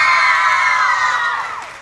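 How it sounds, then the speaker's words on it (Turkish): Loud screaming and cheering from a crowd of girls at a New Year's special stage show on a Turkish morning TV programme, sustained high-pitched shrieks fading toward the end. "Sizden de bir çığlık alayım bakayım kızlar"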